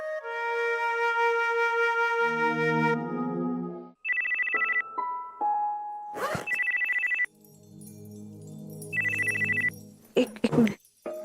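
A melodic telephone ringtone in a Marathi TV serial scene plays as bright electronic tones in repeating phrases, broken by short pauses and a few abrupt clicks.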